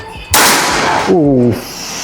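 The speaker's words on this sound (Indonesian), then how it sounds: "Oke, tembakan kedua." A single loud, sharp shot from an SR Extraction 500cc air gun bursts out with a lingering rush of noise, followed by a short voice.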